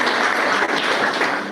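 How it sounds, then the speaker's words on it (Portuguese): Dense, steady applause from a church congregation during an investiture service for a pastor, a continuous wash of many hands clapping at close range with no voices above it. "Que o povo de Deus diga amém, aplauda ao Senhor, aleluia."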